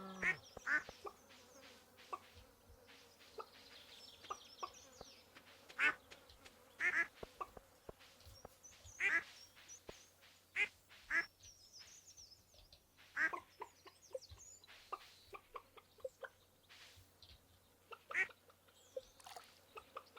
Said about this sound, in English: the duck is hiding